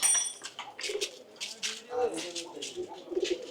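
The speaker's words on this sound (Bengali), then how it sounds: "এদিকে হচ্ছে কবুতর ভিতরে দেখা যাচ্ছে কবুতর কবুতরটি একটু দেখাই" Pigeons coo softly from inside a garage, their low calls mixed with rustling and clattering noise in the background.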